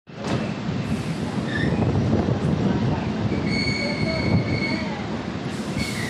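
A Tarakeswar–Goghat local train rolls into Goghat station, a continuous loud rumble of wheels on rail with high metallic squeals and whines rising over it throughout.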